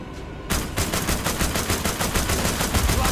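Rapid automatic gunfire rattles in The Walking Dead: Destinies video game, a loud sustained burst of evenly spaced shots starting suddenly after a brief quiet moment and continuing without pause.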